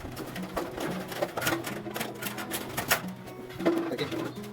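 Pigeons at a home loft, with soft cooing and bird calls mixed with scattered clatter and shuffling, fairly close and continuous throughout.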